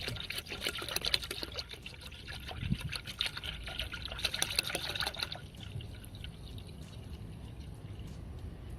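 Coolant being poured into a car's cooling system during a heater core flush, a close, steady trickling and splashing of liquid that stops abruptly partway through, leaving a low background hum.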